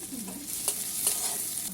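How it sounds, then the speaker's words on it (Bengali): Chopped onion, tomato and green chili fry in a pan over medium heat, a steady soft sizzle with brief stirring scrapes, close and alone. "হালকা ভাজা হয়ে গেছে, টমেটো কুচো দিয়ে দেবো। ঝালের জন্য কাঁচা লঙ্কা কুচো।"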